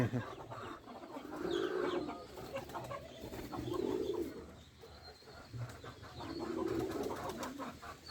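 Soft, low pigeon cooing repeats in three drawn-out bursts, fairly close, with faint rustling and other bird sounds in between.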